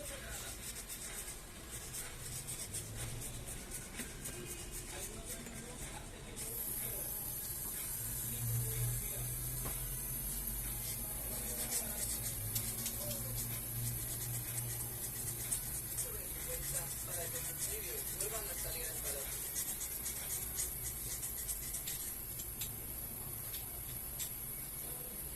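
Refrigerant is charged slowly into a Whirlpool G115NDXZS1 ice maker after a compressor replacement. A thin, steady high hiss begins partway in and continues under faint rubbing and mechanical handling noises.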